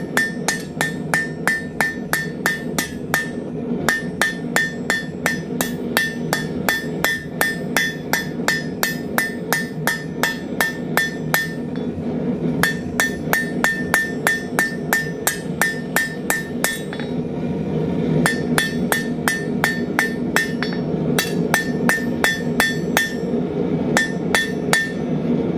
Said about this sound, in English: looking for anywhere where I can see a line and hammering that back in on itself.